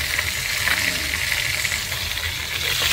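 Goat or lamb meat sautéing in a pan with onion and garlic, a loud, steady, broadband sizzle with crackling spatter throughout, close up and uninterrupted, no talking.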